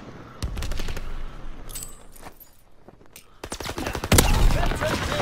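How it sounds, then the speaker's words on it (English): Gunfire in the Call of Duty WW2 video game: sharp bursts of rapid shots in clusters, some close and loud, with a quieter lull in the middle and a heavy burst near the end. "Who is shooting me?"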